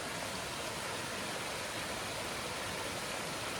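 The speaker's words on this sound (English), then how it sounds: "Little mini waterfalls everywhere." Small waterfalls along a river on a mountain trail beside Brown Mountain Creek, a steady, broad rushing hiss of falling water, continuous and even with no voices.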